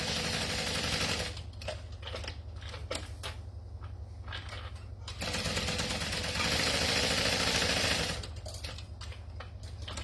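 A sewing machine bastes black cotton woven fabric along its sides and bottom, its steady motor hum running continuously with brief changes in speed, alone without talk.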